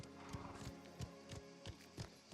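Horse hooves clip-clop at a steady walking pace in a video game, evenly spaced knocks over a quiet low background hum.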